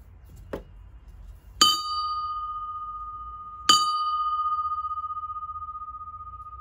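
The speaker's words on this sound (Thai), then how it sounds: "ก็จะมีระฆัง" A small bell hangs inside a cottage in an apple orchard. It is struck three times, the first tap faint. The last two ring out clearly at close range with a long, steady, sustained tone that slowly decays in a quiet room.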